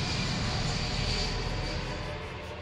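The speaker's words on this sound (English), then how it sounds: "a chartered passenger flight from Mombasa to Israel takes off carrying 200 holidaymakers" A chartered passenger plane on a flight from Mombasa to Israel takes off with a loud, steady engine roar that fills the scene and eases slightly toward the end.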